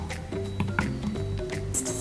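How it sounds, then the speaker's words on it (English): A container of homemade bubble mixture of distilled water, glycerol and dishwashing liquid is stirred, giving soft wet squishing and sloshing sounds close by, with a few small clinks over about two seconds. "Stir that one around."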